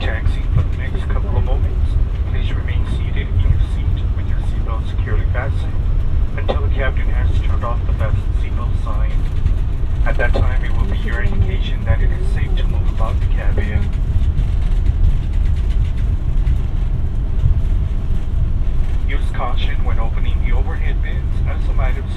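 Steady low engine rumble and cabin noise inside a United Express plane taxiing after landing at San Luis Potosi, continuous and fairly loud, with a cabin announcement spoken over it.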